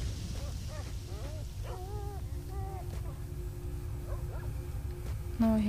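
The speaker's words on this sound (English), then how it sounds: "Now I hear dogs again." Dogs bark and yelp in the S.T.A.L.K.E.R. Shadow of Chernobyl game world, several short, rather distant calls over a low rumbling ambient drone, with a sharper sound at the very end.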